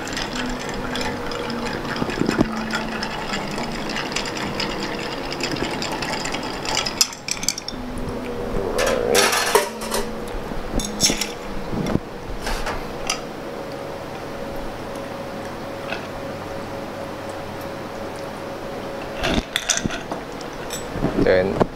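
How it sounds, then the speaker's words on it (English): A Hanky Panky cocktail is stirred briefly with ice in a mixing glass, light clinks and tinkles of ice and spoon against glass, moderately close, with small knocks and a faint voice in the background. "And let's do a quick stir."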